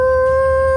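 A person imitating a wolf howl, a single steady, sustained tone held clearly for under a second with no pauses or other sounds.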